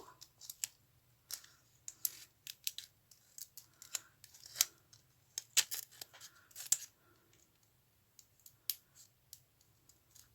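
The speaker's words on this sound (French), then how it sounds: "je vais juste couper mon Nemo" Scissors snip a Nemo shape out of paper for a scrapbook notebook cover, giving irregular crisp clicks and cuts with short pauses between them, close up and quiet with no voices.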